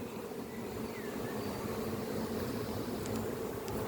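Honeybees at a hive during an evening inspection make a steady, faint, dense buzzing drone that holds unchanged throughout.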